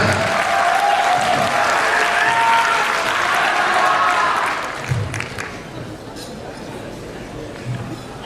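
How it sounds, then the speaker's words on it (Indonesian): Audience applause at an Indonesian Democratic Party presidential convention debate as a candidate is called up, loud sustained clapping for about four seconds that fades into room murmur and scattered sounds. "Tepuk tangan."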